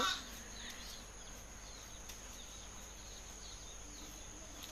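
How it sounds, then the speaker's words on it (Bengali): Quiet village ambience at night, with faint chickens, frogs and a steady layer of insect and cricket chirring spread evenly across the scene, soft and distant, with no talking. "সব জায়গায় খালি মুরগির শব্দ ব্যাঙের শব্দ পোকার শব্দ"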